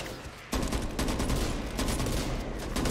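Sustained rapid gunfire in the co-op zombie shooter Back 4 Blood, a loud continuous fusillade that starts abruptly after a brief quieter lead-in and keeps up a dense, crackling barrage to the end.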